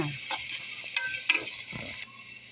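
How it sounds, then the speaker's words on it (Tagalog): Onion and garlic sautéing in olive oil, a soft close sizzle broken by a few quick stirring scrapes and clicks over a couple of seconds; no speech. "Kaya nga lang igigisa natin sa olive oil and onion and garlic"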